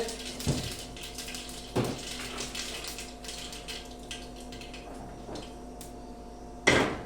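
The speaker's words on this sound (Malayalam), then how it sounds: "അപ്പോൾ കടുക് പൊട്ടിത്തെറിച്ച് റെഡി ആയിക്കൊണ്ടിരിക്കുകയാണ്" Mustard seeds pop in hot oil for a tomato tempering, giving a few sharp, scattered cracks over a faint steady sizzle and kitchen hum, close and fairly quiet.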